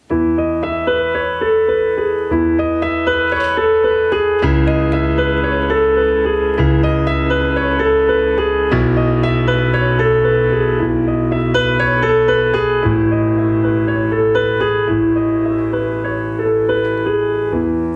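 A piano plays a slow, sustained melody over deep bass chords, the harmony shifting every few seconds, full and resonant with no talking.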